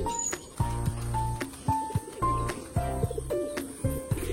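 Homing pigeons coo in a loft, with repeated soft, low, throaty calls coming in short bursts close by, plus a few brief higher chirps.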